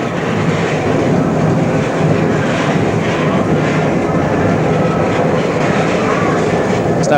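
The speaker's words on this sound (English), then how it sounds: "They both release the brake before they take power, which gives a rather violent start." Budapest tram from 1991 starting off with a violent jolt as the brake releases before power, a steady loud rumble of wheels and car body running throughout with no clear pauses.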